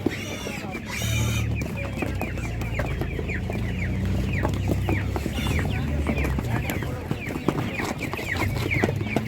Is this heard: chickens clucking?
yes